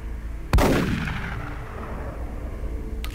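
A single loud, booming gunshot in the video game XCOM: Enemy Within, with a long reverberant decay fading into low background hum.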